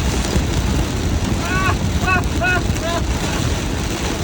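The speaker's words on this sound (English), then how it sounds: "It is raining so hard." Steady, dense roar of heavy rain pounding a moving car in Little Rock, Arkansas, with a faint voice briefly audible beneath the constant wash.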